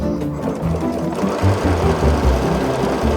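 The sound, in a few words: sewing machine top stitching a hemmed area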